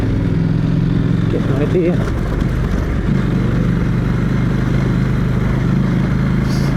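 A motorcycle engine drones steadily at low speed while crossing the sand dunes of the Simpson Desert, a close, continuous rumble with occasional clatter as a rider talks over it.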